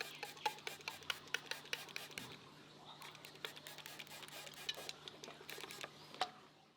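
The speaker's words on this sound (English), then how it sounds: "Now give it a quick spray of water." Rapid mist sprays from a trigger bottle onto a moss terrarium, a rhythmic series of short hissing spritzes repeated many times, close by, with no talking.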